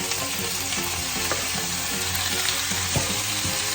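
Jackfruit frying in a pan for ginataang langka with crab, a steady broadband sizzle with occasional soft stirring clicks, close and continuous with no voices.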